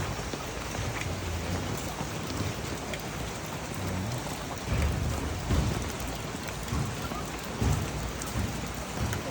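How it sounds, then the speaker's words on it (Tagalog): Steady rain falling and pattering on surfaces near a fish pond, a dense continuous hiss with a few heavier bursts, loud and close throughout with no voices. "maulan, maulan ngayon guys."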